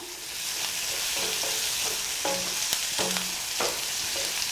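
Onions sautéing with a little salt in a pan for a tomato curry, a steady close sizzle with repeated scraping strokes of a spatula and no talking.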